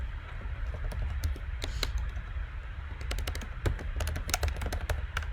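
Rapid keystrokes on a computer keyboard as a web page address is typed, uneven bursts of crisp clicks and taps over a steady low room hum, close and fairly quiet, with no speech.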